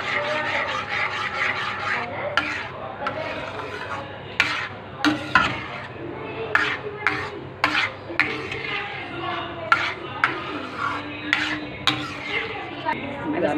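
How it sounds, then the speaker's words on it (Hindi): A spoon scrapes and stirs suji halwa in a pan over low heat, with repeated rhythmic scraping strokes and occasional metallic taps, close and clear throughout. "फिर इसको चलाते रहना है, आँच स्लो रखनी है और इसी तरह चलाना है, इसी तरह चलाना है ताकि उसमें भुटी ना पड़े।"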